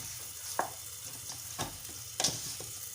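Chicken cooks in a pan with a low steady sizzle, broken by a few scattered scrapes and clinks of stirring, close and fairly quiet, with no voices.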